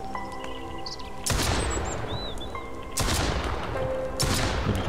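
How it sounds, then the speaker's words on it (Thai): Bursts of close, loud gunfire in the video game Mist Survival, with rapid volleys starting about a second in and again around the three-second mark over a noisy background, with small electronic game sounds in the quieter gaps. "ยิงจากตรงไหนวะ"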